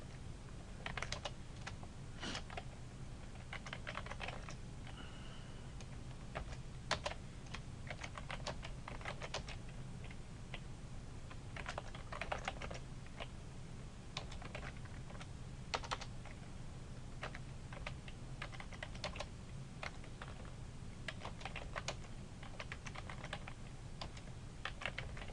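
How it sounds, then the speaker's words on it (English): Typing on a computer keyboard, with continuous irregular clicks of varying loudness at a soft, steady pace, heard alone against a low background hum. "let's say I'm typing the driving question"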